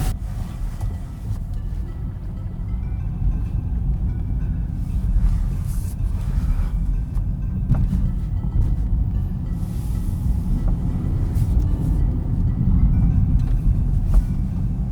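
A 2021 Chevy Spark engine running on a test drive, a steady low rumble and road drone heard from inside the small car, continuous and fairly even throughout.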